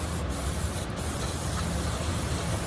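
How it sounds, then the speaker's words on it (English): Brake parts cleaner sprays onto the front brakes of a Ford Transit in one continuous, close, harsh aerosol hiss that fills the whole moment, with no voices. "Brake parts cleaner."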